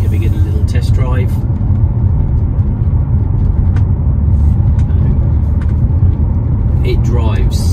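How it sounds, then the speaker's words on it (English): A 2005 Bentley Continental GT with a 6.0-litre engine drives on a test drive, its steady low engine and road rumble loud and continuous throughout, with brief higher whooshes near the start and end. "Just giving it a little test drive."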